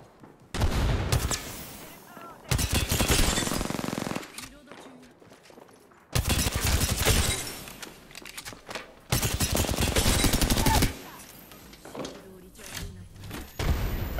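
Gunfire in Apex Legends, several loud bursts of automatic fire separated by short gaps, with a voice talking between and over them.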